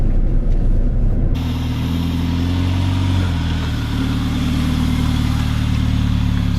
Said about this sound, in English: That's what it's like to drive the A45 AMG.